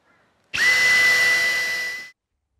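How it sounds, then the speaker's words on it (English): A power drill whirs up sharply, runs steadily at a high pitch for about a second and a half, then stops abruptly. Close and loud, no speech. "let's just get some drill holes in there"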